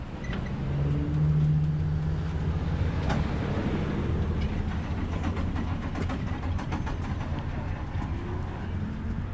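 Nitrous 392 Dodge Charger as the clutch is popped: a loud, low engine rumble that swells briefly and then labours and shudders with rough knocking pulses, steady and close throughout.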